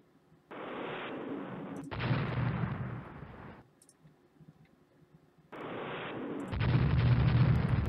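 Naval artillery bombardment by destroyers in the Rule the Waves naval strategy game, heard as two pairs of sustained, booming broadband barrages separated by a quiet gap, the second blast of each pair heavier and louder.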